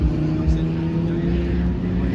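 Race cars run on the GP Explorer circuit, a steady droning engine roar filling the background without clear individual pass-bys.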